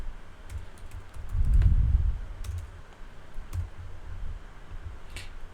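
Typing on a computer keyboard: scattered light key clicks over a quiet background, with a louder low thump early on, close and without speech.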